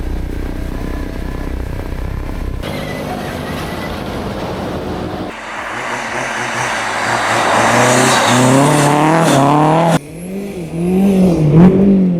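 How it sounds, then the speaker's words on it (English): A Mercedes 190 diesel at the Amatella Rally, its engine droning then revving hard with rising, sweeping pitch as it accelerates past, loud and close with a sharp break near the end before climbing again. "A look at the Mercedes 190 diesel during the Amatella Rally event."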